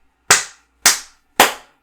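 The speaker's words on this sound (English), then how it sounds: "We clap quieter" Three single sharp hand claps, evenly spaced about half a second apart, close and crisp, each decaying quickly into silence.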